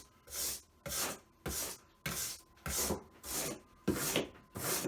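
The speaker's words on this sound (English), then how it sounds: "this actually works really well to smooth out this foam" Drywall planer rasp scraping over foam in a dashboard rebuild, seven or eight even rough strokes about a second apart, each a breathy hiss, close and alone.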